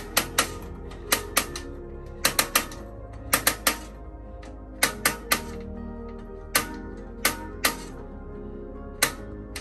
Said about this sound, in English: I'm just going to keep clicking to this light. It could take 30 or 40 clicks.